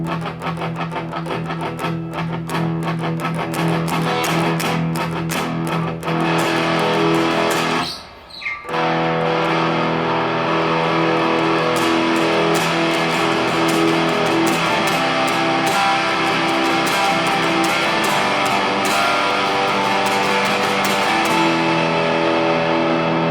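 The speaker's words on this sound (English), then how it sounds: "Jam Pedals, Rattler distortion pedal" Dense, sustained electric guitar through a Jam Pedals Rattler distortion pedal plays continuously with a brief drop-out partway through, loud and saturated with no talking.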